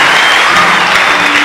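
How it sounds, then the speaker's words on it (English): Church audience clapping in steady, dense applause that fills the whole stretch, close and fairly loud with no voices over it. "Let's clap for Mwalimu"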